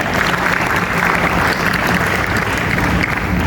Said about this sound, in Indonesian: kita berikan aplaus untuk Persatuan Seni dan Silat Golok Terbang